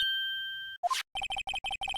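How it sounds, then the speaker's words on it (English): The Steel Samurai theme plays as a phone ringtone in Phoenix Wright: Ace Attorney. After a sustained tone and a quick bright chime, it runs a bouncy electronic melody of short, evenly spaced beeping notes, clear and alone. "It's a Steel Samurai theme song, isn't it?"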